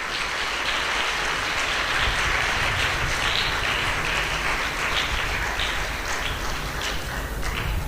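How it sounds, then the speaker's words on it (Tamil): A church congregation at a Tamil Christian service claps together for the Lord, a dense, steady wash of many hands sustained at full volume throughout, with no talk over it. "கைத்தட்டுங்க எல்லாரும் ஆண்டவருக்கு."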